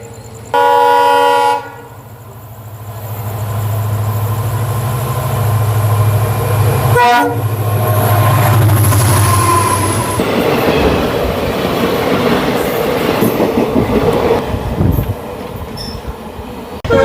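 Nagaland Express pulling out on its evening run from Dibrugarh, a loud horn blast opening the clip, then a sustained locomotive drone and rising wagon rumble and rattle as the train gathers motion.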